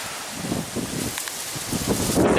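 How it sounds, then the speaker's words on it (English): Wind gusts through trees, a steady broadband rush with leaves rustling throughout. "it's windy."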